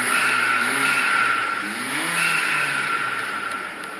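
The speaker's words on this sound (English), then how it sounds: "It had a little bit of noise on startup." A Mercedes-AMG engine, suspected of an internal fault with a slight noise on startup, runs loudly and steadily up close, its drone swelling briefly as the revs lift, then settling.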